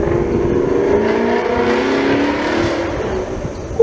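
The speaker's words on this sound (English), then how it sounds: "That Mustang sounds really good." A Ford Mustang engine revs loudly and steadily nearby, a deep sustained drone holding for several seconds with no voices over it.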